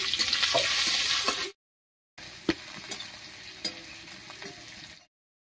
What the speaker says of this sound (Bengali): রসুন আর কাঁচা লঙ্কাটা ভাজা হয়ে গেছে